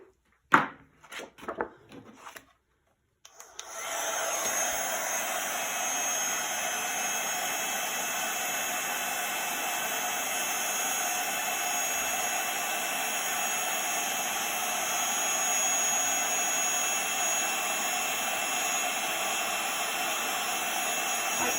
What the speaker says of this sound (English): carefully moving your heat gun over the image.